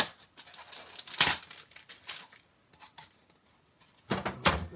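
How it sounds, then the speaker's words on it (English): Scissors snipping through screen material for a vermicomposting bin, a few sharp crisp cuts close by, spaced out with short pauses between them. "Then I grab my scissors"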